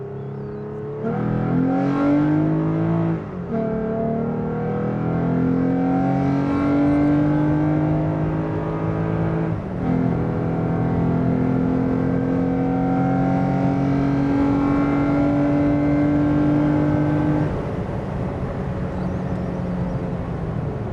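A lifted third-generation Toyota Tacoma truck on 33-inch tires, loaded with tools, accelerates hard with a rising engine drone that climbs through gears, loud and steady with no talking.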